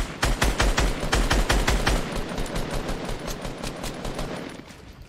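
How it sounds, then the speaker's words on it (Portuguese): Rapid automatic gunfire in a shooter video game comes as a loud, close burst of evenly spaced shots, then trails into quieter, more distant shots fading out, with no talking. "Atira embaixo, Titi, é pra derrubar ele."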